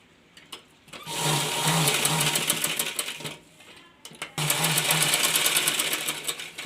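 A sewing machine stitches a drawstring onto a baby langoti in two fast, steady bursts of rapid needle clatter, separated by a brief pause and preceded by a few handling clicks, close and loud.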